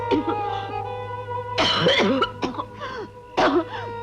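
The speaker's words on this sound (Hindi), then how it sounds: "इतनी बुरी तरह क्यों खांस रही हो?" A woman coughs badly in a harsh, rasping fit, several ragged bursts with throat clearing between them, loud and close over a low steady hum.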